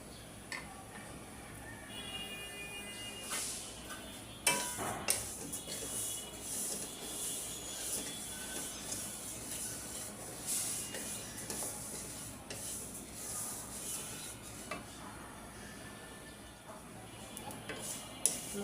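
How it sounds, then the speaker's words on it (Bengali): Cumin seeds dry-roasting in a hot pot, giving off a steady hiss with scattered small ticks and sharp pops, several louder cracks standing out near the middle and end. "জিরা মশমশা শক্ত ফুটতেছে, মশমশা হয়ে গেছে জিরাগুলো। ফুটার শব্দ হয়েছে।"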